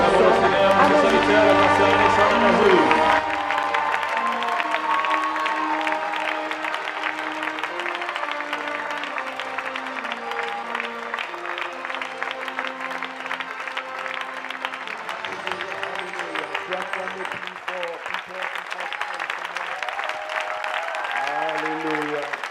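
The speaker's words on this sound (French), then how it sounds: "levons-nous et acclamons le Seigneur pour son serviteur, le pasteur Alexandre Amazou" Church congregation at a 2019 seminar in Cergy applauding and cheering for the pastor, a dense, sustained wave of clapping and voices filling the room, with louder cheering at the start.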